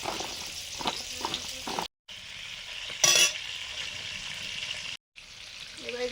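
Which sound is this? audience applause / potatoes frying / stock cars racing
potatoes frying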